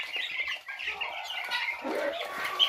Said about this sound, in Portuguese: Mais pintinhos ali na frente.